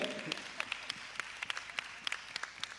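An audience at a conference on human capital and digital growth in Africa applauds: a thin, sparse scatter of claps at a distance, fairly quiet, with a murmur of voices underneath.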